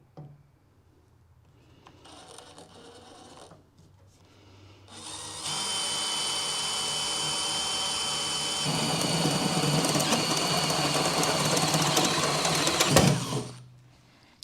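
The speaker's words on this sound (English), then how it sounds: "Time to drill." A power drill bores through a steel clamp on the firebox door of a Hasty Bake 250 Pro grill. It starts with brief whirs, then runs as a loud, steady high-pitched whine for about nine seconds before winding down.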